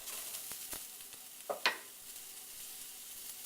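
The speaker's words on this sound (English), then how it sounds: "you have to be careful when you simmer fry like this that you don't burn your garlic" Faint, steady sizzling of garlic frying in a pan, with a few soft clicks and scrapes of stirring.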